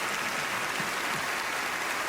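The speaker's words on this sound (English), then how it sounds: "Give him a round of applause" Steady broadband clapping from a television studio audience at a magic show, dense and continuous throughout with no voices on top.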